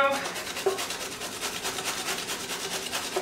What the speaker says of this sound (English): So let's fold this and just grate it.